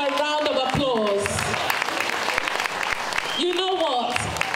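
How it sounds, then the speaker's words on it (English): A school audience applauds parents after a student Macbeth performance, steady clapping running throughout while voices talk and call out over it. "Can we give them a round of applause?"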